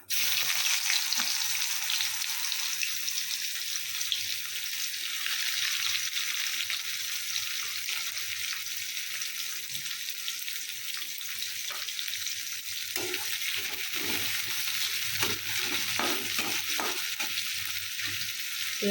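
Onions frying in hot oil in a pan for a fish curry, a continuous bright sizzle that holds steady throughout, with a few faint stirring clatters near the end and no speech.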